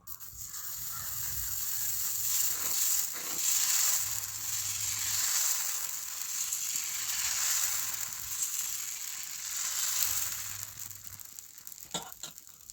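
Dosa batter for a ghee roast spread on a hot griddle that was sprinkled with water: a steady, bright sizzling hiss carries throughout, with a few faint clicks and scrapes near the end.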